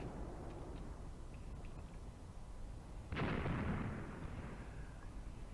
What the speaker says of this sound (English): they're firing back at my mortars